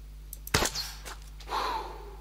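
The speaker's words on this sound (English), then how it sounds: "I have to take this walking shot" A single sharp rifle crack aimed at a grizzly bear in the hunting game theHunter, a brief loud report followed by a short echoing tail and faint rustling.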